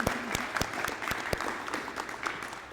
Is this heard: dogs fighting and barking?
no